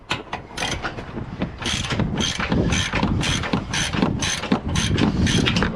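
A ratchet wrench turns a nut on the upper control arm of a 2009 Ram 1500 2WD, giving a steady run of quick, close metallic clicks in repeated bursts with no talk.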